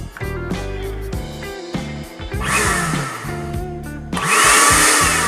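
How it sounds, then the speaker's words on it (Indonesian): A repaired kitchen blender switched on in two bursts, its motor whirring up loudly and harshly for about a second and then again for over a second, with quieter clatter and tones between. "Blender pun sudah hidup dan bisa digunakan kembali."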